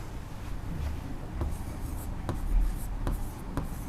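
A pen writing an account balance entry on paper, a continuous close scratching with a few sharper stroke taps, steady and moderately quiet with no talking.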